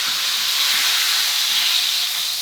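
A pork roast searing in a hot pan gives a loud, steady sizzling hiss that holds without a break for a couple of seconds, close up and unaccompanied by speech.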